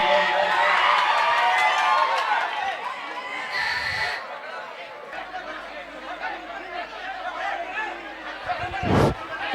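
A crowd at a comedy show greets the actor Sudeep with loud chatter, cheering and shouts, the noisy din easing midway before a sharp burst near the end.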